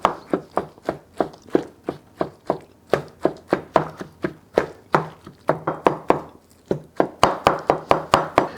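Eggplant being chopped with a knife on a cutting board: rapid, crisp knocks that repeat quickly and evenly, close and loud. Short pauses break the run, then the pace quickens toward the end.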